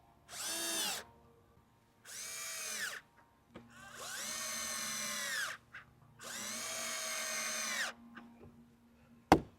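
A power drill driving screws to mount a magnet inside a truck camper: four whirring bursts of one to two seconds each, close and clear, ending with a sharp click.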